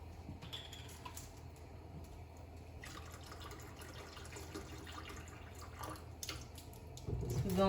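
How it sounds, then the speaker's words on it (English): Water pours and drips into a pot of tamales set to boil, a steady low splashing wash lasting throughout and swelling louder near the end. "Add a little bit more water to it"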